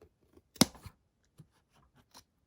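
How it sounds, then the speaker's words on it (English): Scissors snip through fabric to cut the center hole of a tiny hat underbrim: one crisp, close cut followed by a few fainter snips. "now we're going to cut the center hole"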